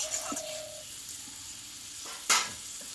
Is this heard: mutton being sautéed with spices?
yes